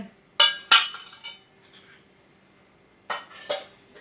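Cumin, small sambar onions and garlic cloves drop into a mixer grinder jar in short clinking bursts, first two quick clatters, then a pause, then two more, close and fairly crisp.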